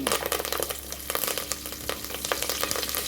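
Cumin seeds and curry leaves sizzling in hot oil for mutton bone rasam, a steady close crackle and spatter with bursts of popping, heard alone throughout.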